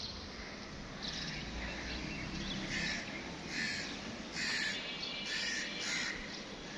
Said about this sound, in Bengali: পাখির ডাক শুনতে খুবই ভালো লাগে